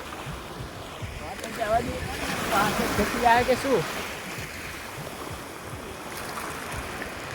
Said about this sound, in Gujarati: જુઓ કેવો ચૂલ્લો આવે, પાણીનો હેલુડો એવો આવે ને